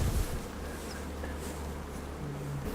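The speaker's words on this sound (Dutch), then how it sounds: "Hier hangt een zwermpje aan de boom." A swarm of Buckfast bees hangs in a tree and gives off a faint, steady buzz close by.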